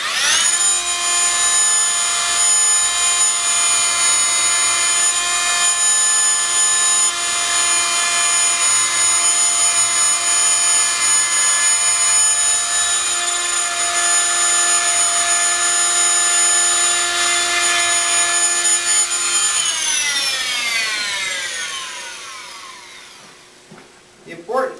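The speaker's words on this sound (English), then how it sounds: "I'm using a fine multi-master to do this cutoff." A Fein MultiMaster oscillating tool trims excess wood veneer close to the substrate with a steady, high, buzzing whine that holds for about twenty seconds before winding down as the tool stops.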